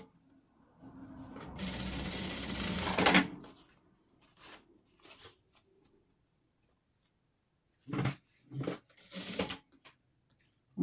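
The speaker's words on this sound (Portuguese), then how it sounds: "depois eu overloco ele." An overlock sewing machine stitching a sweatshirt blouse with satin: one longer rapid whirring run, then a few short separate bursts of stitching with quiet gaps between them.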